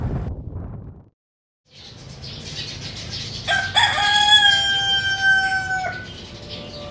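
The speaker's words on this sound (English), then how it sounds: "It's morning, as you can hear," Roosters crow in the morning at a West Java surf spot, one close crow rising strongly after a brief silence, with softer distant crowing and steady surf rumble beneath.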